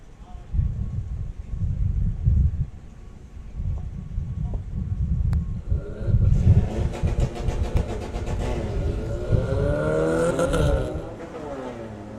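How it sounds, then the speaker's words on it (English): Volkswagen Passat Estate at a drag racing event, engine idling and revving in low rumbles before a rising, roaring launch that sweeps upward in pitch, with a commentator's voice present. "Phil with the Passat Estate"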